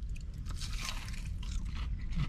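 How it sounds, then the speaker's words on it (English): A single bite into a large, crunchy battered onion ring at a Denny's, a close, crisp crunch followed by brief chewing, quiet and alone without talk. "Onion rings that big are definitely a 2 to 3 biter."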